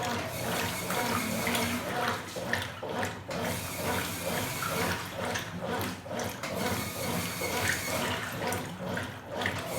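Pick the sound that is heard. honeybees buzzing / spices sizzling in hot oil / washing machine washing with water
washing machine washing with water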